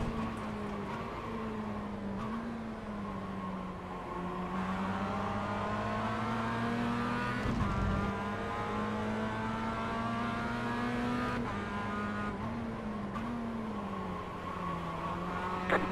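Race cars from the iRacing sim running close together, a steady sustained engine drone with shifting pitch throughout, other cars approaching alongside without a distinct pass-by peak.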